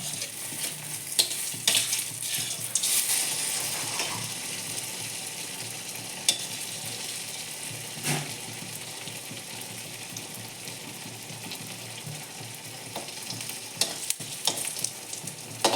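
Pitha dumplings frying in hot oil, a steady close sizzle and bubbling hiss running throughout with occasional pops and clinks, no voices.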